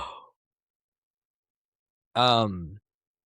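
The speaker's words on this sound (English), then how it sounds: "Excuse me, I'm yawning." A single drawn-out yawn with a voiced, falling tone, close and clear, after a short breathy sound and a stretch of silence.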